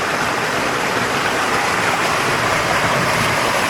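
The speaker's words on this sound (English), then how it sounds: "And the waterfall right here, really hot." Hot waterfall pouring into a clear river at a natural hot spring in Idaho, a steady, loud, full-band rush of falling and churning water close by, with no voices.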